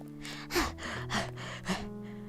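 A person out of breath from running pants close and quietly, with three heavy, gasping breaths spaced about half a second apart.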